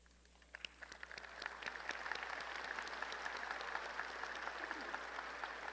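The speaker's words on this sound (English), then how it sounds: "Would those receiving a doctoral degree please stand and receive our applause?" Audience applause fills a university engineering commencement hall for doctoral degree recipients, steady and fairly distant, building from scattered claps into sustained clapping.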